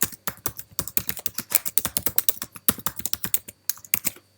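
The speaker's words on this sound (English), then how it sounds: "Let's type Computer Science Videos." Fingers type on a Mac computer keyboard, giving a brisk, close run of crisp individual keystrokes in an uneven rhythm with one short pause.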